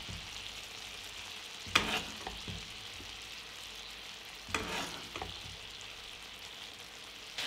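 Pork fillet medallions frying in fat in a pan: a quiet, steady sizzle broken by two sharper spattering bursts, with no voices.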